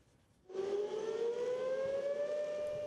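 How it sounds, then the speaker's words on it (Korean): A civil defense air raid siren for a South Korean wartime drill starts abruptly after a brief quiet moment, then holds a loud, steady wail that rises slowly in pitch. "사이렌이 울리고 도로 위 차량들이 멈춰섭니다."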